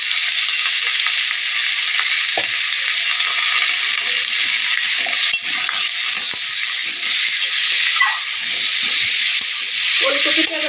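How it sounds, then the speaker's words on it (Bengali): Kohlrabi frying lightly in a pan with salt and turmeric gives a loud, steady oil sizzle throughout, broken by occasional spatula scrapes and stirring knocks close by. "ওলকপিটা এবার আমি হালকা করে ভেজে নেব।"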